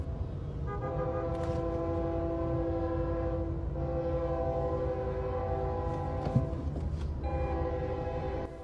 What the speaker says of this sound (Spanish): de fondo se escucha el ruido de advertencia que emite la máquina del ferrocarril